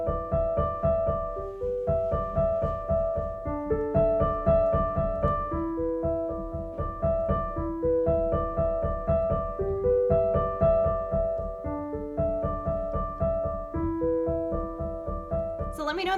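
Easy piano tune played at a quick tempo with the sustain pedal down, notes ringing into each other in a steady flowing pattern of repeated phrases, clear and close with no talking.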